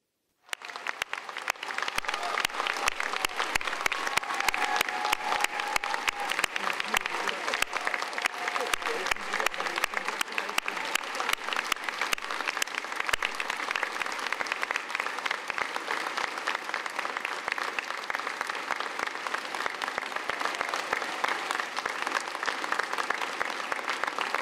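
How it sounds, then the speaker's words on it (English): A large audience gives Open University graduates a long round of applause at a Peterborough degree ceremony, starting abruptly and staying dense and steady, with a few voices faintly audible beneath the clapping. "join me in giving them a huge round of applause"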